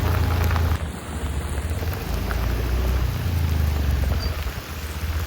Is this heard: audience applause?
no